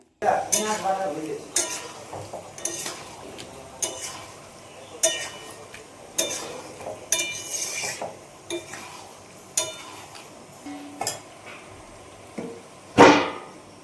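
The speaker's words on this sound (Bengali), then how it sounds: "আলু পটল দিয়ে বেশ ভালোভাবে কিছুক্ষণ নাড়াচাড়া করতে হবে" A spatula stirs potatoes and pointed gourd in a pan, giving a steady run of close metallic scrapes and clinks about once a second, with one sharper clank near the end.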